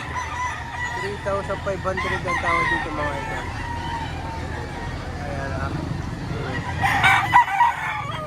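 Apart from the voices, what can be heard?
rooster crowing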